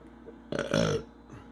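A single loud, close burp of about half a second from a man watching wrestling at home, rising abruptly over a quiet room hum.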